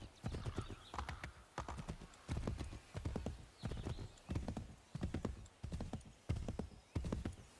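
Steady rhythmic clip-clop of horse hooves trotting in the video game Assassin's Creed III, with an even repeating beat and no voices.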